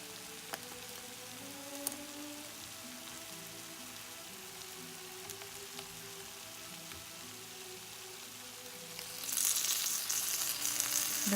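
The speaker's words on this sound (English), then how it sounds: "I will put the sauce on top of the tofu" Sauce poured over tofu frying in a pan makes a soft, steady sizzle that swells into a louder, brighter hiss near the end, with no talking.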